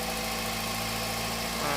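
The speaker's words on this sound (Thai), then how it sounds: "ตอนนี้เราเร่งเครื่องนะ" Honda City car engine running during an air conditioning test, a steady close mechanical hum with a slight rise in intensity near the end as the throttle opens.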